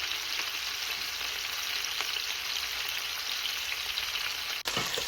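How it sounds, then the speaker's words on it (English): Meatballs searing in a Kirkland Signature stainless 5-ply copper core pan give a steady, dense sizzle and crackle, close and unbroken for several seconds, with a tiny clink near the end and no talking. "Now, next, we sear the meatball,"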